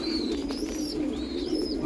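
Andhra pigeons coo softly against a steady background hum, with a few thin chirps and whistles above, heard at moderate distance for a brief moment without any voices.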